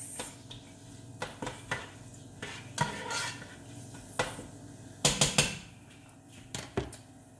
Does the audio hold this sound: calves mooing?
no